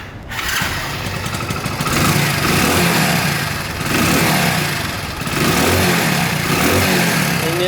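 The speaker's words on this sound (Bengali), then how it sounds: "ইঞ্জিন সাউন্ড দেখেন" Hero Splendor motorcycle engine running steadily and revving in a few swells, loud and close throughout, with no voices over it.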